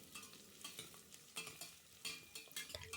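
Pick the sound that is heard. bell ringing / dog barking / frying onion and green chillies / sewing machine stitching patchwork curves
frying onion and green chillies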